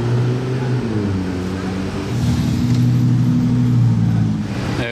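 An Audi RS6 passing on the street, a loud, close engine drone with a deep steady tone that shifts in pitch as the car moves by, continuous throughout.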